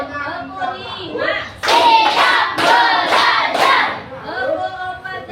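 Young pupils in a classroom clap a counted rhythm: roughly five crisp, loud claps in a tight sequence, with children's voices and an adult speaking before and after.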